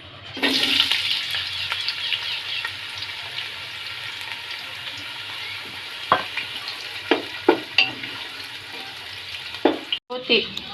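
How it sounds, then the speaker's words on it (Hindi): Medium sliced onions sizzle and hiss steadily in hot oil in a pan for matar pulao, with a few louder pops and clatters near the end, close by. "3 मैंने मीडियम प्याज को स्लाइस किया, वो डाल रही हूँ।"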